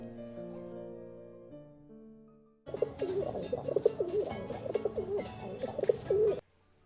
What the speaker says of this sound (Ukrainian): Давайте ж послухаємо, як воркує голуб.